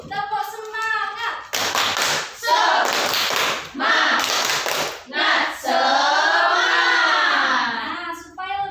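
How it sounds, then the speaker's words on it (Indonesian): A classroom group doing the tepuk semangat cheer, bursts of rhythmic hand clapping in short patterned sets between chanted voices, close and loud in a room. "kita tepuk semangat dulu. Tepuk semangat."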